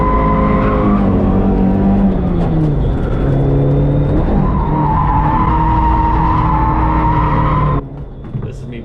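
A Toyota AE86 drifts with its engine revving hard and tyres squealing in long sliding tones, loud and continuous from inside the car, easing off near the end.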